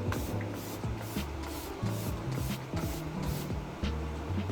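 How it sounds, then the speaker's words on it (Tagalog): Rapid bursts of makeup fixer spray misting from a bottle, a series of short hissing pumps in an irregular rhythm, close and fairly loud with no one talking. "Spray lang ako nun. So yung gamit ko is itong makeup fixer spray."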